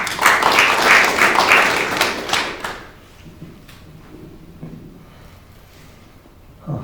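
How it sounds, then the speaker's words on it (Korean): An audience at a Korean parliamentary forum opening ceremony applauds to welcome a speaker, a loud, dense burst of clapping for about three seconds that then dies away into quiet room noise. "큰 박수로 맞아주시면 감사하겠습니다."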